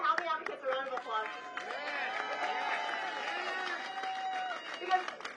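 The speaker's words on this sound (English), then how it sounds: "let's give our housing advocates a round of applause" Crowd at an outdoor housing protest outside a New York City office claps and cheers in a round of applause, steady and dense for several seconds with voices mixed in.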